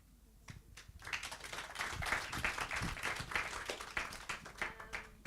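Audience applause after a talk at a dialogue event on Christian Zionism, a steady wash of many hands clapping that swells after the first second and continues at full strength to the end.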